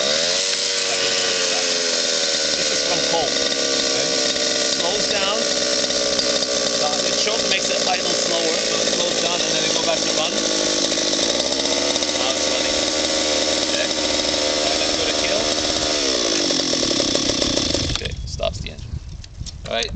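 A cold small engine on a radio-controlled model starts and settles into a steady, loud buzzing idle for most of the stretch, then cuts off abruptly near the end.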